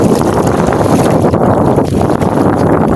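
Strong wind at sea buffets and roars across the microphone continuously, a loud rumbling gust with no pauses, over a steady low background.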